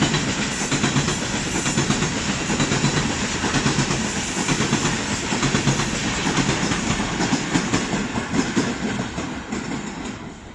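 A Pakistan Railways high-speed train rushes through Braudabad railway station, a loud, continuous roar of wheels with rhythmic clickety-clack over the rails, steady and close throughout, with no voices.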